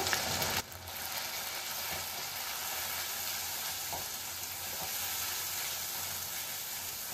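Paste of green chili, ginger and fennel frying steadily in hot oil with asafoetida, a dense continuous sizzle that starts with a brief louder burst and then holds even and close, with no talking.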